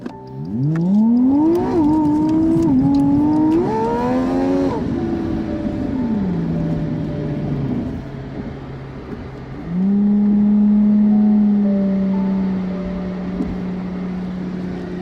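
A car engine revving hard and then pulling away, rising and falling engine pitch with gear-change drops before settling into a steady drone, loud and close with no talk.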